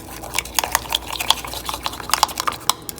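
A spoon stirring Cajun shrimp bake ingredients with garlic powder in a dish, giving light clinks and scrapes in an irregular, close rhythm, fairly soft with no talk.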